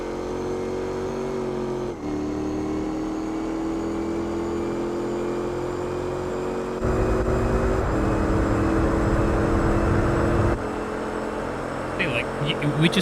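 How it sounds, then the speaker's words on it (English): A Corvette racing in Gran Turismo 4, its engine holding a steady high-speed drone with pitch shifts at each gear change, loud and continuous with a few clicks near the end. "We just have a Corvette which can do like 300 kilometers per hour, which is over 150 miles per hour."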